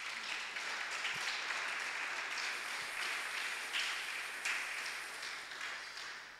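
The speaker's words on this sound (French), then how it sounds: "Est-ce qu'on peut acclamer le Seigneur?" A church congregation bursts into sustained applause and cheering for the Lord, a dense, steady wash of clapping that holds for several seconds before easing slightly toward the end.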